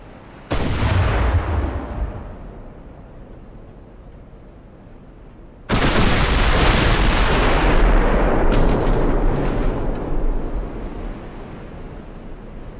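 Heavy naval guns fire in the warship battle game Ultimate Admiral: Dreadnoughts, two loud booming salvos with long rumbling decay and a sharper crack between them, no talk.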